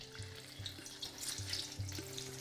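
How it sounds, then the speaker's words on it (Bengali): Potato pieces dropped into hot mustard oil for deep frying, a soft crackling sizzle with a few faint clunks of the pieces settling, heard fairly quietly and close. "যার মধ্যে আমি আলুগুলোকে দিয়ে দিচ্ছি।"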